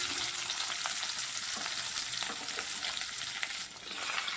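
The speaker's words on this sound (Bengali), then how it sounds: "এবার পেঁয়াজগুলোকে একটু লাল লাল করে ভেজে নিতে হবে" Two medium chopped onions fry in a little oil with a continuous crackling sizzle, joined by occasional soft scrapes and stirring sounds, and no one speaks.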